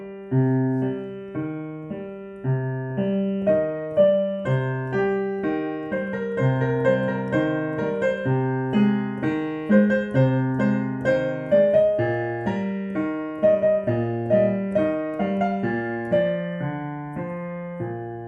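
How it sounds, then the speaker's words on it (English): Solo piano plays a steady broken-chord accompaniment, bottom, top, middle, top, repeating in an even flowing rhythm, clear and moderately soft. "Another really popular pattern is what's called the Alberti Base."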